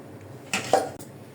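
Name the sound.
wok being set on the stove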